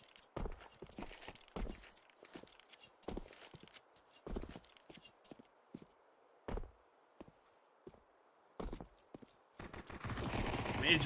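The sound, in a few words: Glock pistol gunfire in Counter-Strike video game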